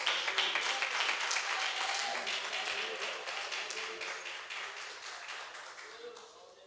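A church congregation applauds during a Portuguese-language sermon. Dense, crackling applause starts loud and slowly fades, with voices underneath.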